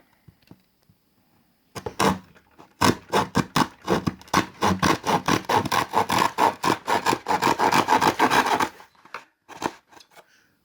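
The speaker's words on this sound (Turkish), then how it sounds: "Ben buna testere gibi bir şey getireceğim onu da keseceğim" A hand saw rasps through wood in rapid back-and-forth strokes, loud and close, for about seven seconds before stopping, with faint handling noises around it.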